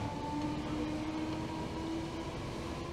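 A Merseyrail train travels steadily, giving a constant rumbling roll with a sustained motor whine heard from inside the carriage, quiet and unbroken with no voices.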